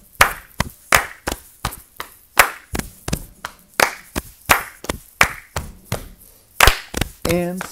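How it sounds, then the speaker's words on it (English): Sharp, rhythmic claps from a fourth-grade class lesson, loud and close, about two per second in a steady beat, each a crisp isolated smack separated by short silences, ending with a brief voice. "If you're having a hard time, follow the clap."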